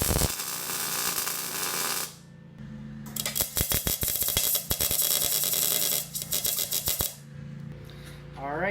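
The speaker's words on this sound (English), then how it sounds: "so we're gonna weld this on here as far as we can" Arc welding on steel parts of a rocket stove build, bursts of crackling buzz with pauses between tacks, close and fairly loud over a low electrical hum.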